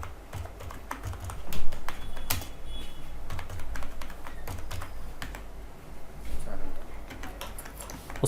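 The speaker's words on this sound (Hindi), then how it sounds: "स्टूडेंट का फर्स्ट नेम टाइप कर लेंगे" Fingers type a student's first name on a computer keyboard, a close run of quick, uneven key clicks with short bursts and pauses, and a voice talks faintly underneath.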